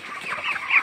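Chicken clucking at close range, a short burst of bright, fluttering calls with no talk over it, in a rural setting where a chicken is being caught.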